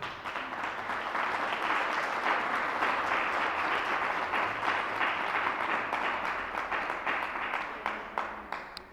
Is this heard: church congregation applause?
yes